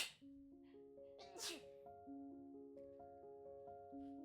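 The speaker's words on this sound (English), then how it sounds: "Okay, I did sneeze." One sharp, loud sneeze bursts out about a second and a half in, set against steady, soft sustained musical tones playing throughout.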